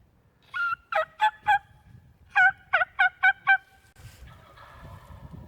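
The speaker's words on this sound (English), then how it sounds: "There's at least 3 gobblers, probably about 100 yards away." At least three wild turkey gobblers gobble about 100 yards off on spring state land in Massachusetts. Two clustered bursts of loud, rattling gobbles, four then five in quick succession, stand out clearly over a quiet outdoor background.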